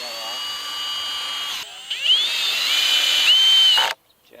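A power drill drives screws through metal plates into a 2x4 raised garden bed frame, a steady whining motor running for nearly four seconds with pitch shifts as it loads, close and loud, then stopping abruptly.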